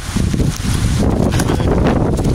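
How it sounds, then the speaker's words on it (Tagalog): Strong wind buffeting the microphone outdoors in a flooded neighborhood, a loud continuous roar with gusty low rumble and rustling, close and unbroken, no voices. "Mahangin."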